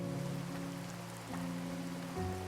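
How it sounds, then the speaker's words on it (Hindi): Steady rain falls outside a school building, a dense even hiss that runs the whole time beneath sustained low musical tones. "बाहर बारिश चल रही होती है"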